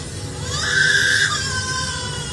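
Lyrebird mimicking a voice, a bright wavering cry-like call rising and holding for about a second over steady background noise, with a horse-like whinny quality.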